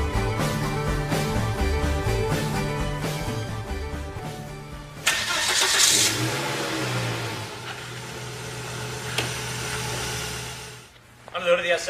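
A 1998 Volvo S70's 2.4-liter inline-five starts and revs, with a steady idle then a swelling rev and a burst of higher-pitched whir near the end, while someone talks over it.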